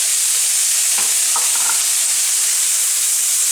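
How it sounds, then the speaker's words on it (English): Broccoli hits a hot hibachi pan in a steady, loud sizzle that fills the whole clip, with a few scraping stirs of a utensil breaking through early on. "Next, what I'm going to do is go on and add the broccoli."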